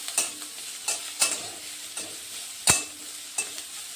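Breakfast ingredients fry lightly in a pan, heard as soft spaced scrapes and taps of a spatula about once every half second over a faint, quiet sizzle, close by with no talking.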